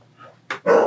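A dog barks indoors twice in quick succession, a short sharp bark followed by a longer, louder one, close to the listener with no talk over it.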